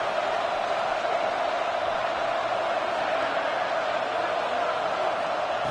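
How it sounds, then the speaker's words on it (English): A football video game's stadium crowd gives a steady, dense roar that fills the whole stretch at an even loudness, with no distinct voices breaking through. "listen to this crowd noise. This stadium is vibrating."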